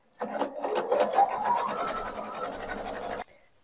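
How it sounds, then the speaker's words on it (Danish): A sewing machine stitches around fabric edges with polyester thread, running as one continuous fast whirring burst for about three seconds before stopping abruptly, close and clear. "Så jeg kører bare i en stikning rundt i kanten her."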